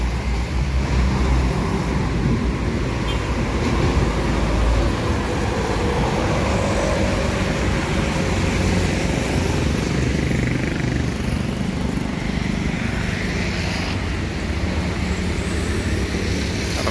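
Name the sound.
morning road traffic, private cars and trucks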